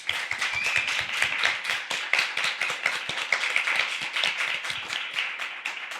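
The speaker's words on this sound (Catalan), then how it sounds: "un aplaudiment que us sangrin les mans molt fort per la Sonia i el Joni" Audience applause at a live feminist podcast recording, a dense, steady patter of many hands clapping for several seconds, moderately loud with no talking.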